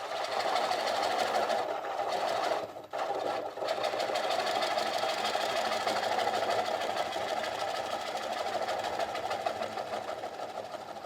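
Woodturning lathe spinning a workpiece, a continuous close mechanical whir with a steady hum and light rattle, briefly dipping once before running on evenly.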